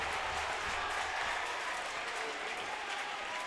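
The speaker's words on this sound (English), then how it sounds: "there are boos on one side of this court and clapping hands on the other" A basketball crowd at a high school semifinal game in a gym, a continuous dense wash of clapping and crowd noise with possible booing mixed in, steady and fairly loud throughout.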